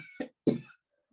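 Two short, close coughs in quick succession, the second louder and harsher, followed by quiet.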